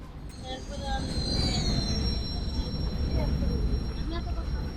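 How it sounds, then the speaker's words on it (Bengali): A train arrives in the mobile game Indian Bike Driving 3D, a continuous rumble of rolling wheels with high squealing tones, while a voice talks over it. "ও ট্রেন আসতেছে, তাহলে যাই আমরা।"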